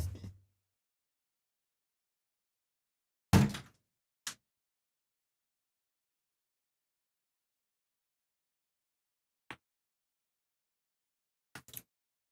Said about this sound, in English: now I gotta shut my door